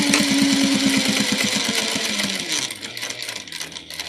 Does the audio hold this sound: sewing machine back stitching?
yes